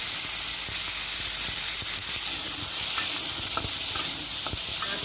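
Spices and diced potato fry steadily in a hot pan for a chickpea curry, a constant dense sizzle with occasional stirring scrapes and small pops, close and loud with no voices.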